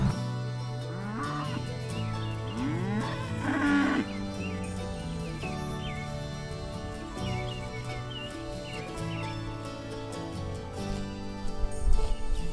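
Cattle lowing in a grazing pasture, several drawn-out moos overlapping at moderate distance amid a steady outdoor background with faint bird calls.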